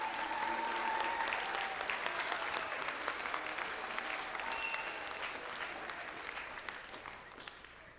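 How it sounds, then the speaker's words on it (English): Audience applause for junior high school band students at a spring concert, a dense, steady wash of many hands clapping that stays loud and then tapers slightly toward the end. "If you give them a round of applause."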